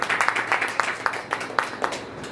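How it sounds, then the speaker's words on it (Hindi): Audience applause at a Hindi poetry gathering (kavi sammelan): a burst of scattered clapping from a crowd, fairly even and moderately loud, tapering off toward the end. "एक बार जोरदार सबसे पहले इनके लिए तालियां बजा दीजिए।"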